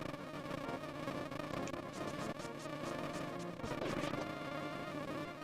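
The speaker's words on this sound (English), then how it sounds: "Oh, the bees!" Angry bees swarm in The Legend of Zelda: A Link to the Past, a steady buzzing drone with game sound effects layered over it, continuous and fairly even in level.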